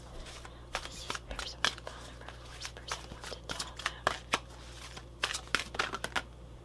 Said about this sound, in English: Let's see what else comes out with the archetype cards.